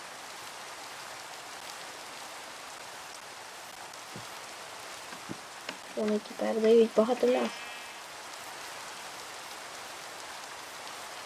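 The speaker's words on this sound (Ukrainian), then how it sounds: "Цей грибаний дощ." Rain in Minecraft falls as a continuous soft hiss of droplets, steady throughout, while someone speaks briefly partway through.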